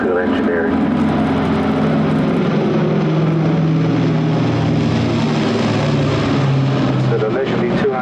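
A Breitling Super Constellation piston-engined propeller airliner flies past at a flying display in Norway, its steady broad engine drone loud and sustained throughout with a low humming tone, while someone speaks over it.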